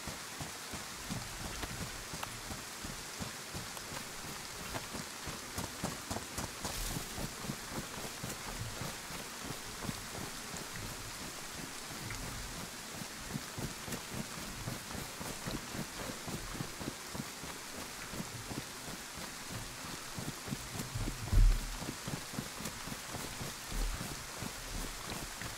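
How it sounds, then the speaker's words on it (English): Heavy rain pours steadily in the DayZ video game, a dense, continuous hiss with faint wind, no voices and one brief thump near the end. "Look how hard it's raining."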